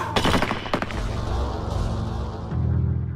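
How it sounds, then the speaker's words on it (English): Eight rifles of a firing squad fire together in a loud volley, with sharp cracks at the start and a heavy rumbling boom that rolls on and lingers without fading. "The deafening explosion of the 8 rifles"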